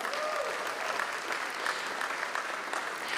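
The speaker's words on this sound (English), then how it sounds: "Let's give her one big round of applause." Steady applause from an audience, dense clapping that holds at an even level throughout.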